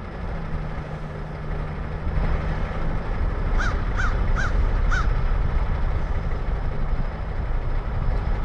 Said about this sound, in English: Really, Crow? You're gonna go mess with the eagle? He is. Now there's two crows.